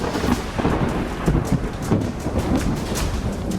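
Heavy monsoon rain pours down steadily over flooded Mumbai while low thunder rumbles and cracks intermittently beneath the downpour.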